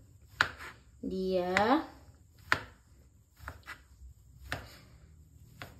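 Cassava being cut into small pieces with a knife on a board, a few sharp separate chops spread through the moment, with a voice briefly speaking between them.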